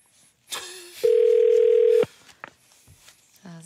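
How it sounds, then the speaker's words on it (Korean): A telephone ringback tone sounds as a call is placed during a radio show, one steady electronic tone about a second long, loud and alone, with faint voices before and after. "지금 전화 걸어보겠습니다."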